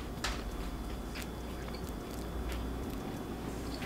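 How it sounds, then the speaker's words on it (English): Biting into and chewing a fluffy, crunchy vegan pizza crust produces soft crunches and quiet mouth sounds close to the mic over a low background hum. "I'm gonna take a bite of the crust."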